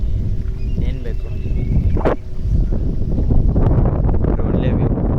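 Wind buffets the microphone while a boat travels across open water toward a beach stay, a loud continuous rushing roar with a brief gust partway through and faint voices underneath.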